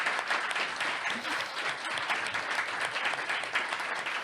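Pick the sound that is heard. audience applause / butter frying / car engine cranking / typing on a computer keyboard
audience applause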